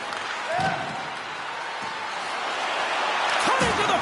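A hockey arena crowd in the EA Sports NHL 24 video game keeps up a steady, distant roar with swelling cheers during an AHL game between Ontario Reign and Colorado Eagles. Skate and puck sounds come through faintly.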